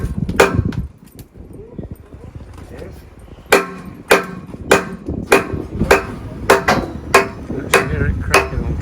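A boat keel being worked free along its joint gives off a run of sharp, loud cracks and knocks, spaced irregularly and then closer together, up close with a muffled background.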